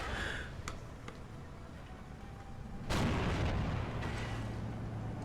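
An anti-tank gun in Steel Division 2 fires at a Panther tank: a single sharp, heavy boom rings out midway and rumbles on, preceded by faint distant pops over low battlefield noise.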